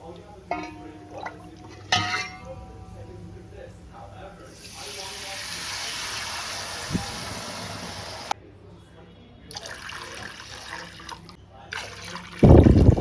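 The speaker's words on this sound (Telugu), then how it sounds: "ఇప్పుడు ఇవంతా మంచిగా ఫ్రై అయిపోయినాయి కదా ఇప్పుడు ఇందులో ఈ వాటర్ అయితే యాడ్ చేసేస్తున్నాను" Water is poured into fried spiced masala in a cooking pot while making mandi rice, a continuous splashing rush lasting several seconds between clinks and handling sounds, with someone speaking.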